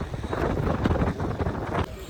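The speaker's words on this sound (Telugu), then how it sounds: "గాలి వస్తుంది" Wind blows hard against a handheld phone microphone outdoors near a lake at Somasila, producing a rumbling, fluttering buffet that rises and falls over a couple of seconds.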